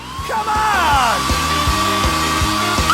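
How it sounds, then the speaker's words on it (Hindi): A hair dryer blows steadily and loudly throughout, with a continuous whirring hum, while melodic tones and rhythmic thumps play over it. "बेहतर होगा एक हेयर ड्रायर ले लेना।"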